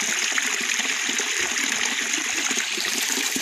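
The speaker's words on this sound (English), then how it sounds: "you all guys can see that it is the drainage water, and the water flows from down here" Drainage water pours steadily down a channel at Gongthung in Bhutan, a loud, continuous close rush and splash with no pauses.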